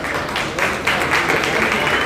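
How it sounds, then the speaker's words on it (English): Audience applause at a commercial pig show as middleweight class entrants are announced, a steady wash of clapping from a crowd, fairly loud, with a slight swell partway through. "We can clap."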